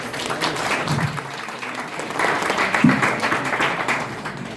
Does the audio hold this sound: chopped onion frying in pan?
no